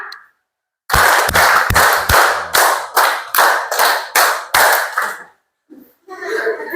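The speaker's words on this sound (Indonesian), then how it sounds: "Tepuk 4 kali." Hands clap in a rhythmic classroom exercise: about a dozen sharp, loud claps in a steady pulse, then a pause and some faint children's chatter.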